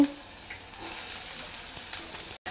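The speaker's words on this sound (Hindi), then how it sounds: "कैप्सिकम को हम 2 मिनट तक लो फ्लेम पे पकाएंगे।" Chopped onion and capsicum fry in a pan over a low flame, giving a steady, soft sizzle that hisses evenly throughout with no voices.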